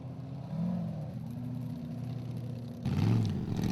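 An off-road racing car climbs a steep hill at a Formula Offroad event in Egilsstadir, Iceland, its engine droning and revving steadily at a distance, rising louder with a surge near the end.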